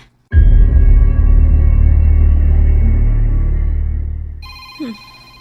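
A telephone rings insistently, a loud steady tone with low hum persisting for about four seconds before fading, then a brief faint higher sound at the end.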